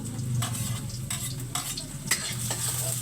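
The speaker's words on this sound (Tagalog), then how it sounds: "Gigisa na tayo mga master." Ingredients sizzle steadily in a hot pan while a utensil stirs and scrapes in repeated strokes, close and loud with no talking, as a Filipino dish is sautéed.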